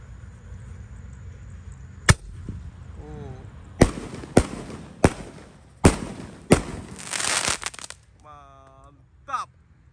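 Small roman candle fireworks are lit and fire off in a string of sharp, loud pops, six or so spaced bursts with hissing and crackle between them, ending with a whistling screech.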